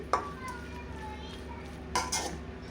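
A spoon stirs beetroot stir-fry with grated coconut in a pan, giving soft scraping and clinking against the metal with a faint sizzle beneath, two sharper taps standing out.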